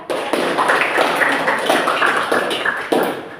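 Children in a classroom clap together in a steady burst of hand claps, loud and close, with a few stronger individual claps standing out near the end.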